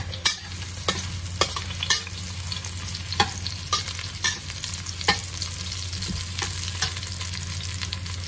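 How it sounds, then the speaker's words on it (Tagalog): Garlic and ginger sauté in a pot with Indian spice and a cinnamon stick, a soft steady sizzle beneath regular sharp taps and scrapes of a utensil stirring, with a low hum in the background and no talking. "Ilagay na po natin ang Indian spice at ang cinnamon stick."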